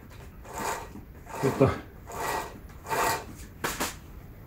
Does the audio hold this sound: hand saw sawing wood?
yes